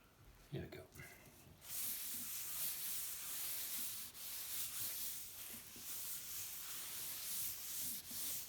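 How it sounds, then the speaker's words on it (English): Steady rough hiss of sanding a Matchbox Morgan Plus 8 die-cast model car, continuous and close, after a few brief scraping knocks at the start. "sanding with dust."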